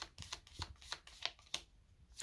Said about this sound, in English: I will do 3 shuffles uninterrupted and then lay them out.